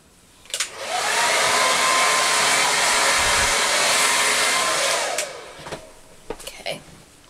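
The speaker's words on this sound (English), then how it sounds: "So I'm just going to chuck my hair upside down and blow dry it for a second." A handheld hair dryer blows hair upside down. It cuts in sharply, holds a loud, steady whooshing roar for about four seconds, then winds down, with a few soft clicks and rustles at either end.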